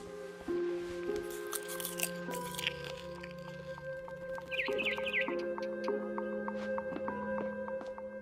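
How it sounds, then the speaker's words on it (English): A barn swallow in the game What Remains of Edith Finch gives a short run of quick, thin chirps midway through, set against a soft musical backdrop with tonal notes and faint clicks. "Then I heard chirping outside my window. It was a barn swallow going back to her nest."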